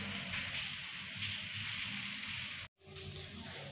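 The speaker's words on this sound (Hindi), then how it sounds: "तो अभी बारिश ने मौसम बहुत ही मज़ेदार कर दिया है" Steady rain falling in a continuous hiss of drops on surfaces, fairly faint, broken by one brief silent cut before resuming.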